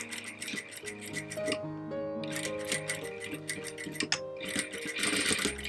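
A sewing machine running a straight stitch during beginner practice gives a steady mechanical whirr with a fast, regular needle clatter. It pauses briefly partway through, then resumes, close and continuous.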